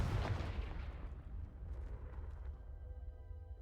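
Confringo fire spell blast in Hogwarts Legacy, a sudden loud boom at the start that rumbles and fades away over a few seconds.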